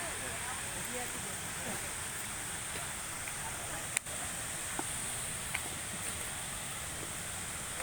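A waterfall in Salavan province, Laos, makes a steady, fairly faint rush of falling water. The wash is even and continuous, with a few small clicks and knocks on top.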